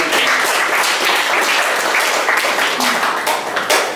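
Crowd applauding Martha at a political gathering, a loud continuous wash of clapping with voices mixed in throughout.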